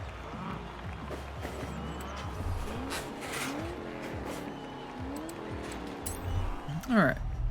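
Toyota Baja truck in Forza Horizon 4 on an off-road beach cross-country sprint, its engine droning steadily with shifting pitch, rising into a louder burst with tire squeal near the end.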